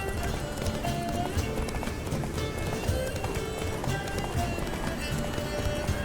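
A horse gallops in The Witcher 3, rapid hoofbeats drumming steadily under game music and ambience, with faint voices in the background.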